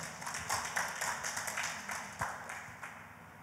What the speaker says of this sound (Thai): ปรบมือให้กับพระเจ้าของเราด้วยกัน